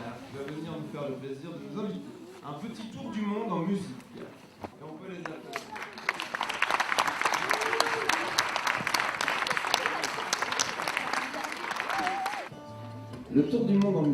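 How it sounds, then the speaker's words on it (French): Audience at a school reading festival bursts into sustained applause for primary pupils, dense clapping rising after some speech and lasting several seconds before cutting off, with talk resuming at the end. "Et on peut les applaudir."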